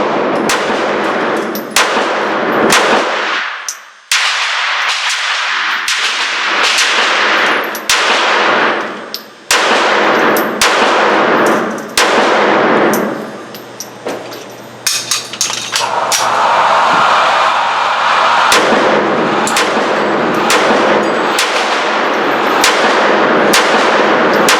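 A SCCY CPX-3 .380 ACP compact pistol fires at the range, a long run of sharp, loud individual shots spaced irregularly one to two seconds apart, each snapping cleanly over faint background noise, with a few brief pauses between strings.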